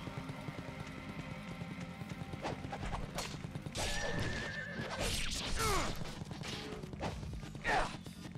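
A horse neighs and whinnies in the video game Ninja Gaiden Sigma over a steady wash of rain and clip-clopping hooves, with game music underneath.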